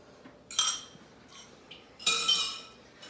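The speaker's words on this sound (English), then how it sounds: "Now what we're gonna do is whisk up an egg, just a regular whole egg." A whole egg whisked in a bowl, two bursts of quick metallic clinks against the bowl separated by a pause, close and fairly quiet with no talking.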